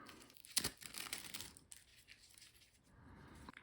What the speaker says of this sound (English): let's go ahead and unroll your new tape here